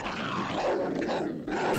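A dog growls in the animated Disney film Lady and the Tramp: a rough, sustained growl that rumbles continuously for a couple of seconds, with a brief sharper sound at the end.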